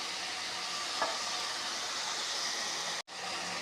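Ginger-garlic paste fries in a pan for prawn kolambu, giving a soft, continuous sizzle at low level with a faint stir, broken by a brief cut near the end.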